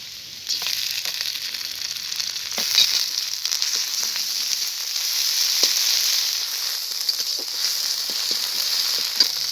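Onion and ginger paste fries in a pan with a continuous bright sizzle, broken by small crackles and occasional stirring scrapes, close and fairly loud, with no talking.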